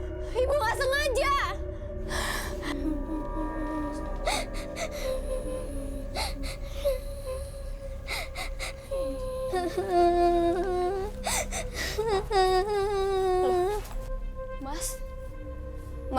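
A person cries and whimpers with gasping, wavering sobs over dramatic background music in a television drama scene, with a voice speaking in between.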